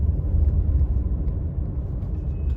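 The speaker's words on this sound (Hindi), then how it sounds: "सिर्फ ब्रेक से ही आपको गाड़ी की स्पीड को रिड्यूस करना है। मैंने स्पीड रिड्यूस करी" Low rumble from inside a car slowing under braking in fourth gear, a close engine drone that softens a little over a couple of seconds, with no voices.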